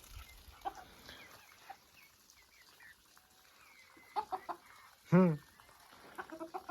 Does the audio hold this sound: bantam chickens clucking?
yes